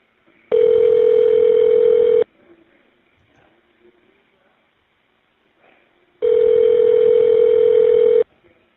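An Evercom jail call line plays two long, loud, steady electronic tones a few seconds apart while the number is dialed, with faint background noise between them.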